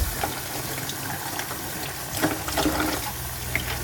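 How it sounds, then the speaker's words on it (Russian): Eggplants rinsed under a running kitchen tap, a steady close rush of water with small splashes and shifting spatter as the vegetables are turned. "Я их мою в первую очередь. Перемываем хорошенько."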